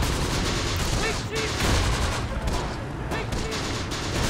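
Mortar and gunfire in the World War II game Close Combat: The Bloody First, dense overlapping blasts and crackling shots in a continuous battle din, with a voice talking faintly underneath.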